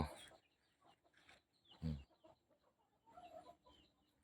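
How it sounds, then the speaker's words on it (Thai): Several chickens cluck in short, scattered bursts, some near and some farther off, with quiet gaps between. "ไก่เยอะแยะ"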